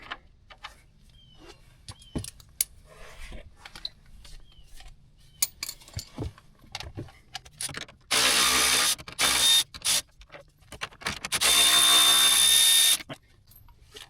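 Ratchet wrench loosening 10 mm bolts on a 2016 Chevy Silverado 2500 HD during a transmission cooler install: scattered clicks and taps, then two loud bursts of rapid ratcheting or power-tool whirring, close up.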